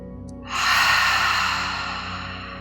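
During a yoga stretch, a person takes one deep, audible breath in, heard close and clear. It swells quickly, then slowly fades over a couple of seconds.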